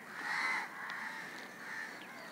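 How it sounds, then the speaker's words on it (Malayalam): Crows cawing outdoors, one harsh caw standing out clearly at first, then softer overlapping calls further off against a quiet background. "കാക്കയൊക്കെ കരയണുണ്ട്."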